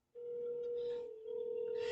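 A telephone handset rings out after a Senator's number is dialed: a steady, moderately loud tone holds for about two seconds, dipping briefly in the middle, with no voices.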